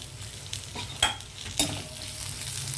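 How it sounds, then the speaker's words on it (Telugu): Onion frying in cooking oil for a chicken roll filling, a close continuous sizzle broken by a couple of sharper spatula scrapes against the pan. "ఇది ఆనియన్ వేస్తున్నాను నేను."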